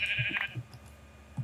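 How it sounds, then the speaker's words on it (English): Sheep in the video game Minecraft give a few short, faint bleats in quick succession, with a thin high tone above them and no talk. "Come on, sheep."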